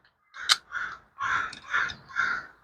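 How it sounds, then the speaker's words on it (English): Several boisterous crows caw outdoors in a series of loud, harsh calls, roughly five bursts with short gaps between them, close by and with no talk over them. "got a bunch of boisterous crows"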